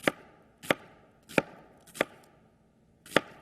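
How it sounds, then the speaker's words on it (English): A knife slices a quarter of a yellow onion into strips, with five crisp chops against a cutting board at an uneven, unhurried pace, close and clear with no talk. "I'm going to cut this into strips."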